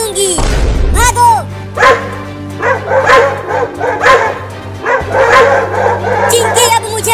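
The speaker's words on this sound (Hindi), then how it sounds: "वो देखो, वो कुत्ता फिर से आ रहा है और देखो वो एक और कुत्ता को भी लेकर आ रहा है।" Two dogs bark loudly and close, with rapid overlapping barks and yips that continue throughout while people talk over them.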